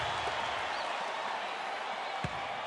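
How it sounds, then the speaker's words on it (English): Dense, steady crowd roar from a basketball arena during an NBA game, broad and loud throughout with no distinct voices standing out. "The crowd's going crazy."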